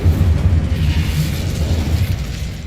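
Incendio fire spell blast in a wizard video game, a loud, dense low roaring burst that rumbles steadily and close for the whole moment.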